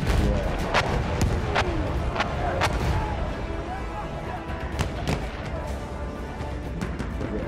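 Artillery bombardment in Battlefield 1, a dense barrage of loud booms and sharp blasts landing repeatedly at close range over rumbling battlefield noise, with a voice speaking at times.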